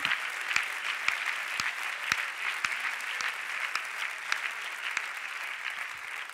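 Steady applause from a church service congregation rolls on for several seconds, dense and even with a few sharper claps standing out, at moderate distance and without talk.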